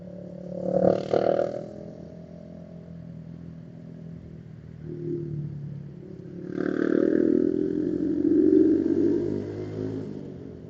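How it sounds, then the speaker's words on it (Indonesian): A noisy motorcycle on the road ahead, its engine revving in two louder bursts with a rough, rumbling tone and clattering overtones in between, heard from nearby without talk. "depan gua nih motor berisik cuy"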